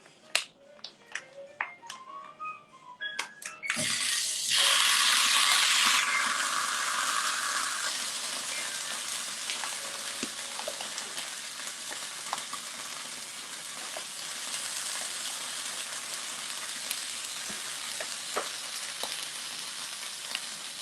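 Jackfruit hits a pot of cooked onions with a loud burst of sizzling, then settles into a steady, close frying hiss. Soft clinks and stirring scrapes come through over the hiss.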